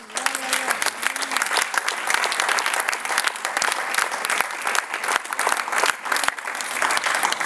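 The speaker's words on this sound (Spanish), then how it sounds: "Aplausos, dice el Señor." A church congregation claps hard during a Spanish-language sermon, a dense, sustained applause with sharp individual claps standing out and a few brief voices mixed in.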